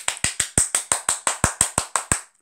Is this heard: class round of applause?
yes